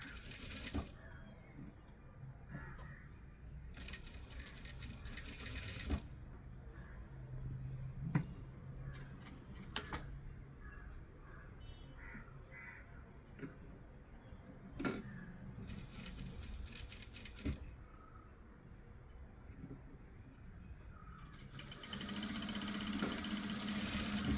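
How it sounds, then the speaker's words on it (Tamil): A sewing machine stitching a party frock in a tailoring shop runs in short bursts of rapid mechanical chatter. Quiet pauses with small clicks and handling noises fall between the runs, all close and moderately soft. "இப்போ வந்து இதை இந்த மாதிரி தைப்போம்"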